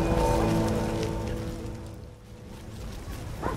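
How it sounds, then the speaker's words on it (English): Steady rain falls in The Witcher video game, a broad continuous hiss with low rumble that fades slightly midway and swells again, with no voices over it. "Scourge of the lords, this rain."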